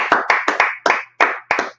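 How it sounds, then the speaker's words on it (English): Rhythmic clapping from a small group at a Tuesday night class, about seven loud, close claps in a steady beat that come in quick bunches, with no talk. "Clap it up. Clap it up."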